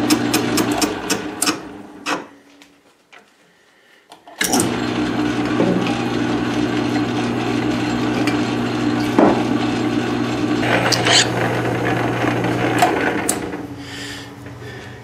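A steady mechanical drone of a drill bit grinding a 1-inch hole through a chuck backplate runs for several seconds after a pause, with rattling and knocking on top.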